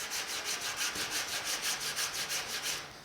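Body filler on the hood of a 1950 Chevy truck being sanded by hand with sandpaper, about a dozen rhythmic rasping back-and-forth strokes close up, fairly quiet, with no voices.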